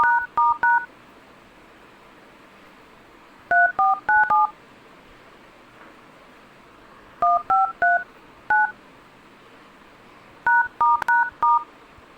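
A mobile phone keypad beeps as a secret code is dialed, several quick bursts of short clear tones separated by pauses, loud and close with no talking.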